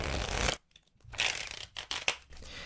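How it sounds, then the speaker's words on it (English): A deck of playing cards being shuffled by hand in a quiet close-up setting, two bursts of crisp riffling and flicking separated by a silent gap, followed by lighter scattered card taps. "If, however, you're at a casino, or say you're going to a magician, they may shuffle the cards like I do, like this."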